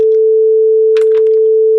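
A steady, pure 440 Hz sine test tone sustains loudly for under two seconds, with faint background voice traces briefly underneath.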